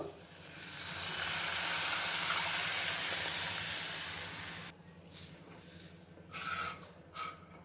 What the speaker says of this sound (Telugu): ఈ టైంలో మనము ఈ మజ్జిగని మొత్తాన్ని దీంట్లో పోసేద్దాము